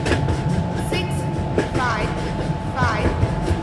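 The Mahamana Express, train 12655, rumbles at platform 2 of a railway station, a loud steady roar with squealing wheels and a faint announcement tone beneath.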